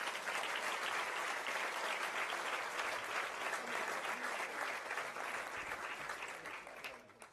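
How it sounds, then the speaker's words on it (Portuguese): A crowd applauds at a campaign dinner in the Jardim do Paço, with thick continuous clapping that stays loud and even, then tapers off in the final second. "Uma salva de palmas para ele."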